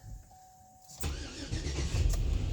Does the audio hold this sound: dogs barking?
no